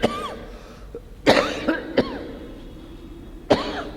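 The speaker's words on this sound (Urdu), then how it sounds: "آج کیا ہو گیا، زیادہ کھانسی ہو رہی" A man coughs several times in a row, with sharp, loud, separate bursts spread unevenly over a few seconds.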